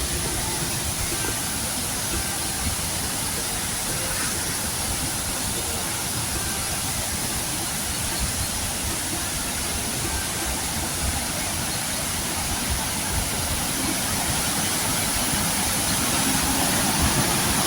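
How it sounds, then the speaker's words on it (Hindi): A rain-swollen waterfall in Mousala, northern Iran, pours with a dense, continuous roar of rushing water, steady and fairly loud from start to end, with no voices. "ये ज़रा आबशार, ऊपर रास्ता भी है, उधर भी जाएंगे, इधर से भी देखते हैं, आबशार देखते हैं।"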